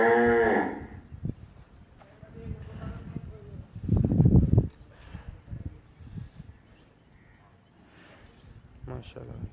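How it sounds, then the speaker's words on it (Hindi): A calf mooing on a cattle farm, a loud close bellow at the start with a second burst midway, while someone talks over farm background noise. "ये इनका दूसरा बछड़ा है"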